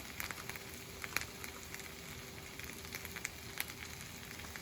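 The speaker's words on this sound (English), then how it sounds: "I'm just going to be giving it a quick stir there" Vegetables such as cauliflower fry quietly on a tawa with masala, giving a low, even sizzle broken by light crackles and scattered clicks as they are stirred, with nobody talking.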